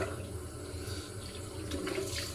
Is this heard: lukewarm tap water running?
yes